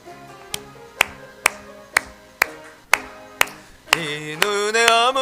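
Congregation at a Korean church dawn prayer service clapping in unison to a hymn: crisp claps on a steady beat about twice a second, then the singing and accompaniment come in over the clapping.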